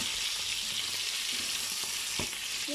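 Filipino sweet longganisa sausage frying in hot oil, a steady, close, dense sizzle and crackle with a few sharper pops near the end, no voices.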